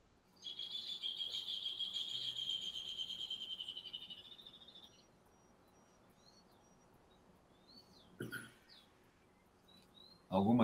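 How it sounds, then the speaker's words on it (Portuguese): A high, sustained trilling song from a small bird for a few seconds, then a few faint chirps, with quiet room background. "Eu tenho o prazer de ouvir um passarinho aí cantando, é verdade?"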